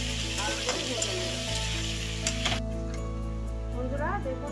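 Sliced potatoes fry in oil with turmeric and salt, a continuous close sizzle that thins out partway through, with a few stirring clinks.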